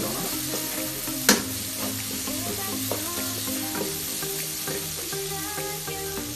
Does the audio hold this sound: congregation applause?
no